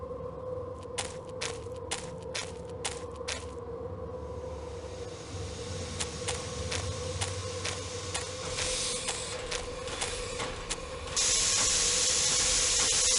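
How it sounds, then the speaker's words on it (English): Steam hisses from a stalled train in an Agatha Christie Murder on the Orient Express game, rising under rapid mechanical clicks and swelling into a loud, bright rush near the end. "This must be where the steam is escaping."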